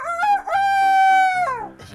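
A person imitates a rooster's crow with the voice, giving one loud drawn-out cock-a-doodle-doo call that rises and falls.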